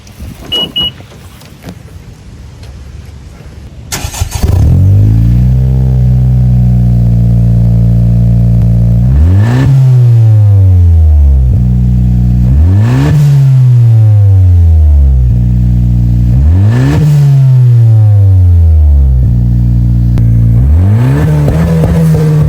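Aftermarket Invidia Gemini exhaust on a 10th gen Honda Civic Si, revving loud and close after a quiet idle, with four strong rising-and-falling rev sweeps in steady succession and no talk.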